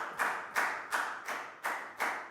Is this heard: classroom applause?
yes